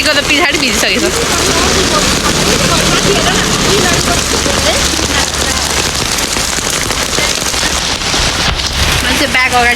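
Heavy rain pours steadily on surfaces outdoors during the rainy season, a loud, dense, continuous patter from start to finish, with faint voices underneath.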